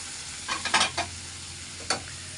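Chopped tomatoes go into a pan with sujuk sausage that has already browned and released its fat, giving a soft steady sizzle broken by a few stirring scrapes, faint and close.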